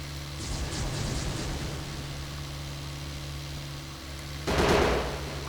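Video game gunfire during a firefight with an armored enemy: a steady mechanical drone carries on, then a loud, close burst of shots breaks in near the end.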